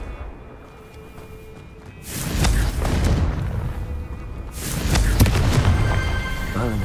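The Confringo explosion spell goes off in the video game Hogwarts Legacy, two loud, booming blasts a couple of seconds apart, each rumbling on after the hit.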